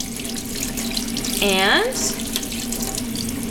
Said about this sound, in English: Again, I'm gonna rinse my hand.